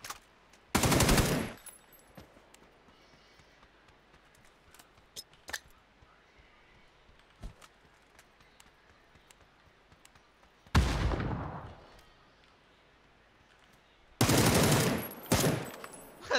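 Bursts of video game gunfire, three loud volleys spaced across the clip with quieter stretches and faint background noise between them.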